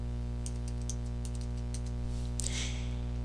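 Quick keystrokes sound on a computer keyboard as a short word is typed, a burst of about a dozen crisp clicks over a steady electrical hum, close and fairly faint, with no talking.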